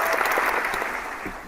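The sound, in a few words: applause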